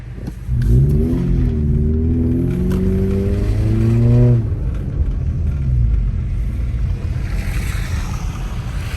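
A two-wheel drive car drives along a snowy road after a snowstorm in Big Bear, its engine rising and falling in a steady drone under rumbling tire and road noise, close and continuous.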